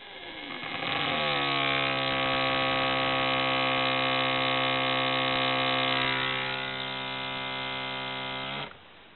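A simple relay wired as a buzzer sound generator on a 12-volt circuit gives a loud, steady, harsh electric buzz that holds for about eight seconds, drops slightly in level partway, then cuts off abruptly.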